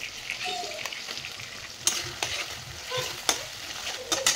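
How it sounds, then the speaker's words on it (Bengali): Ginger-garlic paste frying in a pan with chopped tomato, stirred with a spatula: a steady sizzle runs throughout, broken by several sharp scraping clinks of the utensil against the pan, with no talking. "তারপর ভালো করে নেড়ে নিলাম।"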